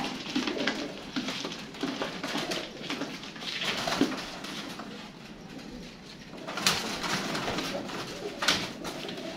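Pigeons coo repeatedly in soft, low rolling calls close by, with a steady background hum and occasional rustling.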